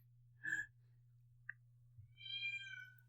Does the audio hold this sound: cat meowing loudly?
yes